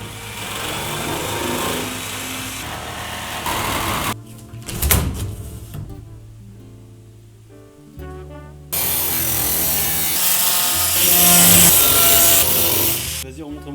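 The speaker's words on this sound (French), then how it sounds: "Donc je change pour la scie sauteuse," Jigsaw cutting through steel, harsh buzzing blade strokes that stop midway and then resume loudly, with a brief pause of quieter clatter between cutting passes.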